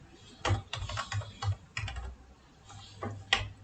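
Computer keyboard typing in quick irregular bursts of close keystrokes, with short pauses between runs, while a web program form is filled in; no voices.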